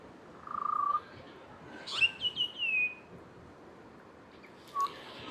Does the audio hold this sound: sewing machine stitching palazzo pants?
no